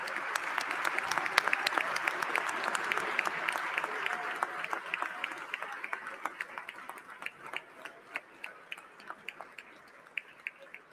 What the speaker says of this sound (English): give a warm round of applause to welcome First Lady Joanna Lidgate